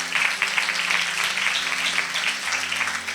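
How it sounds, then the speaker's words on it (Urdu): A church congregation claps together in loud, sustained applause for a sermon, a dense steady patter of many hands filling the room with no voices on top. "اس کی ساری خدمت کو اپریشیٹ کرنے کے لیے زوردار تالیاں بجائیں گے"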